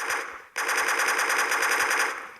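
Rapid automatic gunfire from a gun mod in Minecraft PE rattles loud and continuous, breaking off for a brief moment before resuming in a steady, dense stream.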